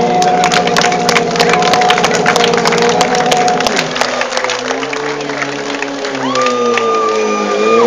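A crowd claps and cheers at a motorcycle and rally show in Ercsi, with scattered sharp claps over a steady engine drone that shifts in pitch as a vehicle revs nearby.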